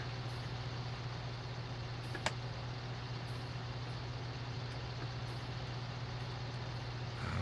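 A farm vehicle engine in Farming Simulator 19 hums in a steady, low, quiet idle with one brief faint click partway through, with no talking.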